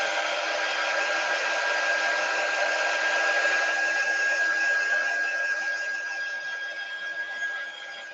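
A hair dryer blows steadily close by, drying chalk paste on a silkscreened Halloween tree decoration, with a continuous whine that stays loud and even before easing slightly near the end.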